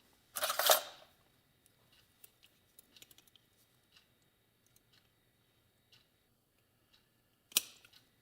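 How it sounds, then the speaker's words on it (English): A screw being taken out of the left handlebar control of a Yamaha YL1 motorcycle, with a sharp clack at the start, sparse faint tiny metallic ticks and clicks, and one more clack near the end, in a quiet room. "And I'm going to remove this screw."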